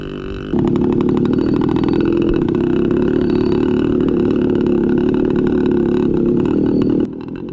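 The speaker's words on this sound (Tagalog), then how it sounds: "mas pipiliin mo talagang magpahila sa motor kaysa padyakin na lang to pataas" A motorcycle engine tows a rider up a steep trail on the way to Kaliskis Trail, roaring loud, close and steady for several seconds after a quieter idle, then dropping back near the end.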